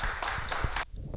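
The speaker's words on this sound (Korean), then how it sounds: "큰 박수 소리로 맞아주시면 감사하겠습니다" A short burst of applause, many hands clapping together in a dense patter that cuts off abruptly near the end.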